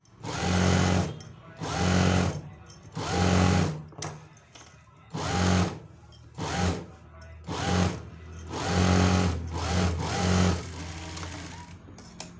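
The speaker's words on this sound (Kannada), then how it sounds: "ಸೊ ಇವಾಗ ಸ್ಟಿಚ್ ಹಾಕ್ಕೊಳ್ಳೋಣ." Sewing machine stitching a sleeve onto a blouse, running in repeated bursts of steady whirring motor and needle clatter separated by short pauses, close and loud with no talking.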